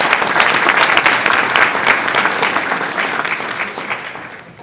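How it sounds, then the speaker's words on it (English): Lively applause from a conference audience at an international beekeeping congress after a talk on creamed honey, loud dense clapping that gradually fades out near the end. "Hey, round of applause."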